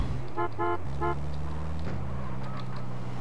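Three short honks of a vehicle horn in Grand Theft Auto: San Andreas sound in quick succession over a steady engine drone, followed by continued motor noise.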